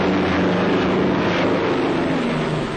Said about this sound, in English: the convoy is being attacked by low-flying bombers